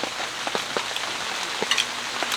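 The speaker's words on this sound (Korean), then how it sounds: "밖에 빗소리 들리신가요?" Steady patter of rain drumming on a tent close by at an autumn campground in Jirisan, soft and even, with no one speaking.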